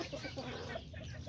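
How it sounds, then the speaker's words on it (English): A chicken or small rooster, kikiriki or Azteca breed, clucks softly outdoors in a quiet, faint, continuous murmur with no talking. "this is my little white rooster that I got out here running around"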